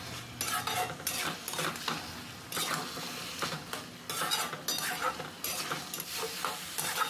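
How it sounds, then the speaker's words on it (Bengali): Pointed gourd and potato curry stir-fried in a pan, a steady close sizzle broken by repeated scraping strokes of a spatula against the metal, with no voices over it. "তো সবজিটা এইভাবে ভালোভাবে আপনারা কষে নেবেন।"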